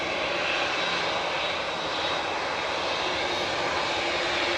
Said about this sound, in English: TUI Dreamy with flight 2166 heading off to Rhodes now. G2EC 787-8 Dreamliner.